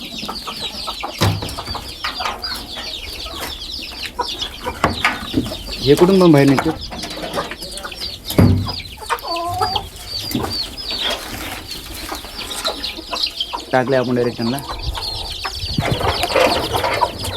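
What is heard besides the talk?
Kadaknath chickens clucking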